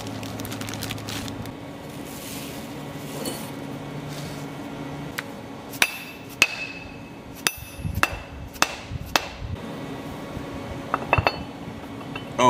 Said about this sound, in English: let's press fit those dowels in, since that those holes were machined so precisely.